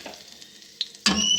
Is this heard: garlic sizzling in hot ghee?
yes